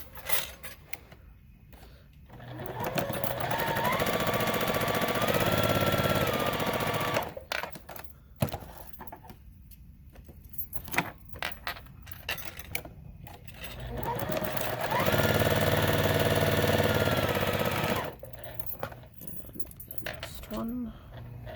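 A sewing machine stitches the seams of quilt blocks, with two long steady runs of rapid needle whirring and quieter handling sounds between them, while a person talks softly during the pauses.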